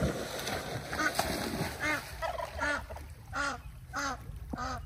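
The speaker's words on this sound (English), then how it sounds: "Scared the duck, maybe." At a backyard pond, a duck gives a series of repeated nasal quacks, evenly spaced and fairly close, after an opening burst of splashing and water noise.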